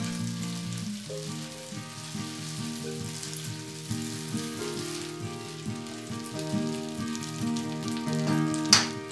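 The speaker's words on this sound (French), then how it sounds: "Et on va cuire pendant 5 minutes tout en remuant de temps en temps." Beef and rice noodles frying in a soy sauce mixture in a pan, with a steady, continuous sizzle and occasional stirring scrapes, close and moderately loud, no talking.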